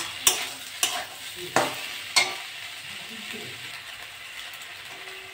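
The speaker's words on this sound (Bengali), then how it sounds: "নেড়ে চেড়ে একটু ভেজে নেব।" Neem leaves and brinjal being stirred and fried in a pan, with four sharp scraping strokes of a spatula standing out over a faint, steady sizzle, then quieter frying.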